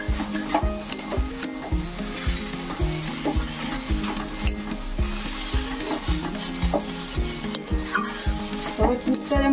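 Banana flower chop mixture stirred and frying in a pan, with a continuous sizzle and steady rhythmic scraping strokes of the spoon against the pan, close and alone.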